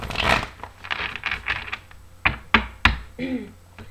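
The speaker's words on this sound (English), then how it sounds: "I've already pre-shuffled, but I will shuffle a few more times." A deck of tarot cards is shuffled close up, with riffling bursts followed by several sharp taps and thumps as the cards are squared.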